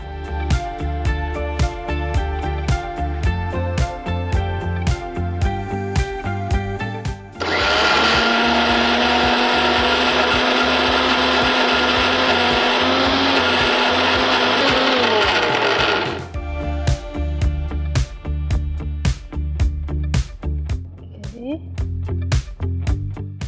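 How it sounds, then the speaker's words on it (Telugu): A mixer grinder whirs loudly for about eight seconds in the middle, blending coconut dosa batter with water, with talk and background music before and after it. "దీన్ని మిక్సీ పట్టాలి."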